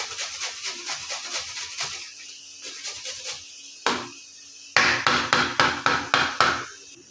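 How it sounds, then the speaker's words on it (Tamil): Fresh Indian gooseberries (amla), three of them, grated by hand: a series of quick rhythmic scraping strokes, close and fairly faint at first, then louder and sharper toward the end. "இந்த மாதிரி 3 நெல்லிக்காய் வந்து துருவுனிங்கன்னா"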